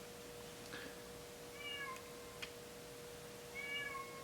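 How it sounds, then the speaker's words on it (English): A pet cat meows several times in the background, short tonal cries repeating at a distance, faint over a steady room hum with no talking. "You can hear our kitty in the background."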